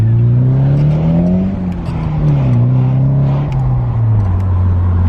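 A Nissan 180SX engine roars loudly and steadily, its pitch climbing and dipping as it revs up through the gears, close and continuous.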